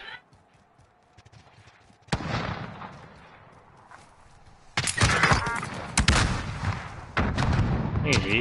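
Video game gunfire aimed at the player: sharp, loud shots and bursts arrive in clusters after a quiet start, with a dense barrage in the second half and voices talking in between.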